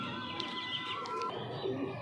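A female Madras pigeon coos softly nearby, a low repeated throaty call over faint background bird chirps, with no talking.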